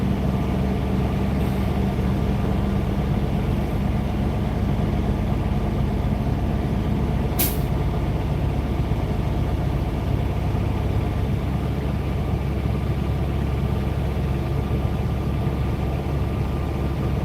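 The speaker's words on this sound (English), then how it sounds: "If you're referring to me sitting here easing through traffic, splitting gears, Ray, it is what it is." Semi truck engine idling and rumbling low while creeping through traffic with gear changes, a steady close drone filling the cab throughout, with a brief sharp click midway.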